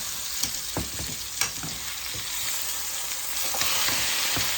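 A honey garlic pork chop fries in a pan with a continuous close sizzle, and a few sharp pops and clicks stand out against it.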